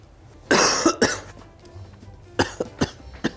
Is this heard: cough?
yes